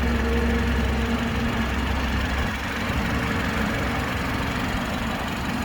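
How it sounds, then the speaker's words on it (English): A 2018 BMW X3 xDrive30i engine idles steadily, a low continuous rumble with an even, slightly rough texture and no talking. "it's idling very happily. I'll let you hear that uninterrupted"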